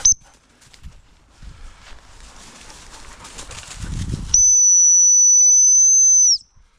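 A dog-training sit whistle gives a short shrill blip, then after some quiet rustling a long, loud, steady high-pitched blast lasting about two seconds, close by and alone.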